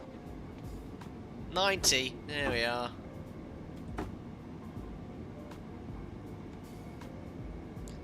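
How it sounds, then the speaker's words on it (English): A BR Class 377 commuter train rolls by in Train Sim World 2 with a low, even rumble and faint mechanical hum, while someone briefly talks over it. "This is like a standard commuter train in the UK."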